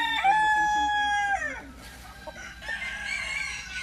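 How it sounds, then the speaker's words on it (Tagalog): A rare breed Ayam Cemani rooster crows loudly and close, followed by clucking from other chickens at a farm tourist destination in Albay, with faint voices in the background. "ito yung mga, kumbaga mga rare type of chicken"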